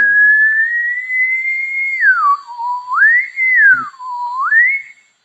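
A single person whistles a clear, pure tone that glides up and down between higher and lower pitches in smooth sweeps, close and alone with no other sound.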